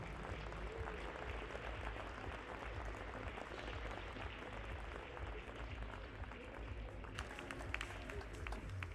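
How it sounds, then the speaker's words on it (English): An audience applauds steadily for the bronze medalist at a women's 10m air pistol SH1 event at the 2022 European shooting championship in Hamar; dense, continuous clapping fills the hall throughout. "please give your applause, your support for our bronze medalist from Turkey, Aysel van Laar."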